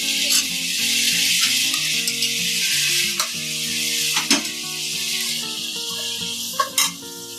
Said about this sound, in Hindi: अब इसमें हम ये डालेंगे कोफ्ते और इसके साथ ही हम ये भी डाल देंगे मसाले, दही के साथ मसाले।